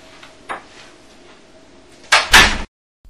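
A hospital door as a patient is wheeled out: faint handling knocks and shuffles give way to a loud clunk and a rattling swing of the door, close by, before sudden quiet.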